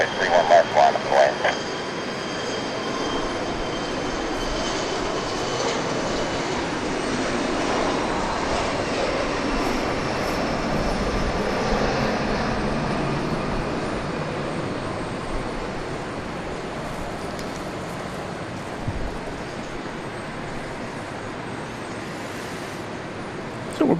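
A Southwest Boeing 737-700 at Dallas Love Field gives a broad, steady jet rumble that holds for a long stretch and slowly fades, heard from a distance, with faint voices and a few brief bumps near the start.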